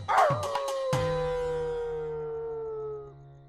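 A dog howls in a long, drawn-out wavering cry that slowly falls in pitch and fades, with a few short sharp sounds at the start. It is loud and close, and no one speaks over it.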